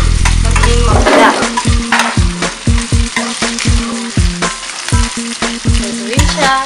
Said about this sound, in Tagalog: Lutuin na po natin ang ham.